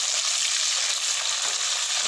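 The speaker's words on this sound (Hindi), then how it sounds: "इसको हम थोड़ी देर और पका लेंगे, फ्राई कर लेंगे अच्छी तरह।" Chicken pieces frying for karahi, about two kilos in a pan, giving a loud dense continuous sizzle with a bright hiss throughout and no voices.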